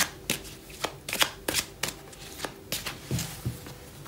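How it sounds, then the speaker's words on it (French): Oracle cards are shuffled by hand in a quick series of crisp riffling flicks and taps, about a dozen bursts at close range with no talking. "Donc, on va battre les cartes."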